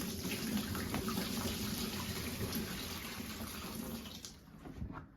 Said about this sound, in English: now gonna pour this water into the excess bucket